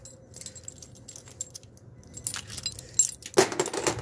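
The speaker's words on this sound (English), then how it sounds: "you're gonna want one of these keys here." A bunch of keys jangles up close in a quiet, cooling-less showroom during sub-cooler assembly work, soft metallic clinks building to a sharper rattle near the end.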